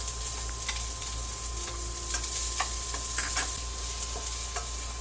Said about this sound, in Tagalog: Magigisa po tayo ng sibuyas.